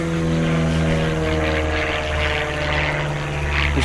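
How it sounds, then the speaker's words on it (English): A propeller airplane drones steadily overhead above a quiet pond where grass carp are being fished, its engine hum loud and continuous with a slow rise and fall, and no one speaking. "The plane."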